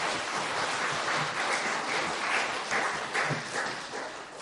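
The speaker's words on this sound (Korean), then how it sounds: "힘차게 한 박수로 환영해 주시길 바랍니다" Crowd applause fills a church revival service as the pastor comes forward, a dense, steady wash of clapping that keeps going without a break for the whole stretch.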